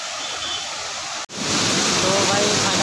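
Gundichaghagi waterfall in Keonjhar, Odisha roars as a broad, constant rush of falling water, loud and steady, with a brief cut partway through and no voices.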